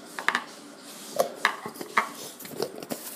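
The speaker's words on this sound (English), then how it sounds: "Putting it on a plate." Peanut butter being put onto a plate, heard as a few sharp, close clinks and taps of utensil against dishware spaced irregularly over a quiet background.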